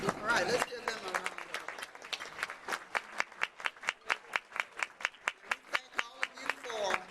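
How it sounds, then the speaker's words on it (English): Banquet audience applause for educators comes as distinct, evenly paced claps that sound like a small scattered group rather than a roaring crowd. A voice talks briefly at the start before the clapping settles into its steady rhythm. "let's give them a round of"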